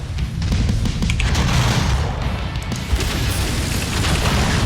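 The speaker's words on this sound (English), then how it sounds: "just keep on firing those rockets at it" Rockets and heavy weapons fire at a mech in the video game MechWarrior 5, a dense, continuous barrage of booming blasts and rumbling impacts with no pauses.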